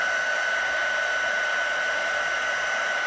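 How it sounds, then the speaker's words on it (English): A steady, loud blowing whir of a heat gun melting embossing powder during card-making, running continuously with a high whine, close by and unchanging throughout. "I'm going to be doing a lot of embossing today, so I hope you don't mind the noise"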